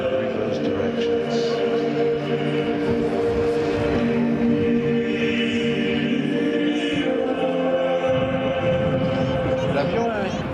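Airbus A400M Atlas military transport with its turboprop engines running and propellers turning, a steady loud drone with rumbling low tones and a tonal hum, heard continuously with no pauses.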